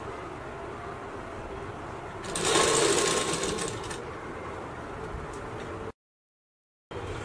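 A sewing machine stitches elastic on a circle blouse or poncho, its fast, even whir rising for about two seconds, then tapering off into a lighter, steady run with no talking.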